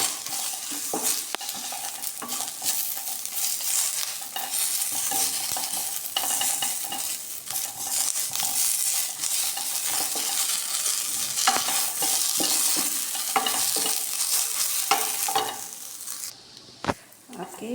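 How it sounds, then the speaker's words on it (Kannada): Onion and curry leaves sizzle in oil in a pan as a steady close frying hiss, while a utensil stirs and scrapes against the pan throughout, with no talking. "ಅದಕ್ಕೆ ಸ್ವಲ್ಪ ಕರಿಬೇವು ಹಾಕುವ, ಸ್ವಲ್ಪ ಅರ್ಧ ಆನಿಯನ್, ಚೆಂದ ಮಾಡಿ ಫ್ರೈ ಮಾಡ್ತೀನಿ."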